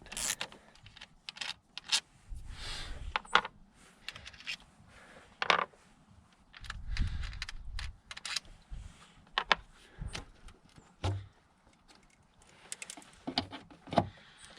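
10mm thermostat housing bolts being cracked loose on a 2002-2010 Ford Explorer 4.0L V6, with close ratchet clicks, scraping metal contacts and brief mechanical rubs in irregular bursts.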